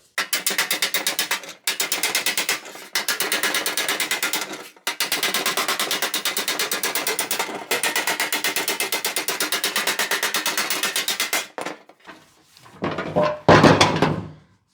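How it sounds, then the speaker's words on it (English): Rapid, continuous wide-face hammer blows on a 1962 Cadillac Series 60 Fleetwood fender skirt in long bursts of fast, even strikes, broken by short pauses, ending with a few scattered louder knocks. "So now we'll go with a wider face hammer."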